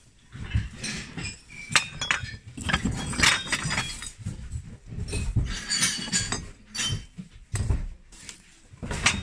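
Dishes being smashed at a German flea market, a run of loud close crashes and glassy clinks in uneven bursts over a noisy crowd background.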